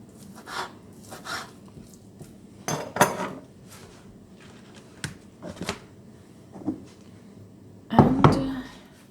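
A knife slices boiled, cooled vegetables for a Russian Olivier salad, giving sparse, irregular close taps and clicks on a board, with a louder clattering burst near the end.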